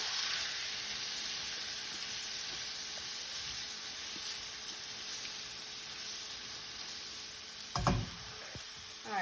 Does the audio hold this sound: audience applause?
no